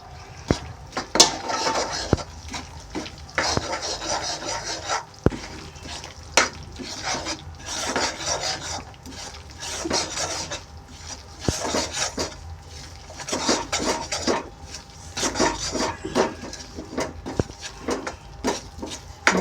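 Flour being stirred into melted jaggery in a pan for gond pak, close repeated scraping and rubbing strokes of a spoon against the pan with occasional metallic clinks.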